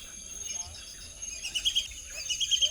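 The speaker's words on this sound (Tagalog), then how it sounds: "May tumutunog, may ibon." A bird calling from trees hidden in forest on a camping trip in Lagonoy, Camarines Sur, with faint, repeated high chirps over a constant insect drone, distant and soft.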